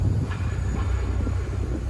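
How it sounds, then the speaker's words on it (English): An out-of-service streetcar rumbles along active tracks on Bay Street in downtown Toronto, a steady low mechanical drone with faint rail noise, close and continuous for a couple of seconds. "I see a streetcar coming up ahead."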